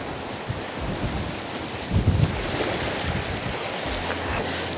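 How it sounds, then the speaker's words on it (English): Sea tide coming in on Osea beach, a continuous wash of small waves with gusty wind buffeting the microphone and a brief louder splash near the middle. "Well, that's how quick the sea's coming in."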